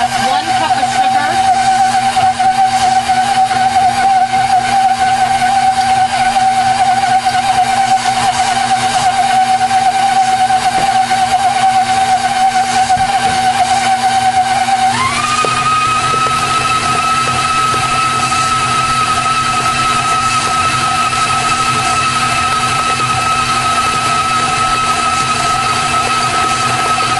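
An electric mixer whirs at high speed through New York style cheesecake batter with sugar, a loud steady whine that jumps up in pitch partway through as the speed is raised.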